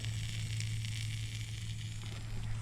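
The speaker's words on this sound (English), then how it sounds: "sizzling off a little bit more of that oil on the backside of the muffler" Oil sizzles and hisses faintly off the hot muffler of a running Briggs push mower, a soft continuous frying sound over the low, steady hum of the engine.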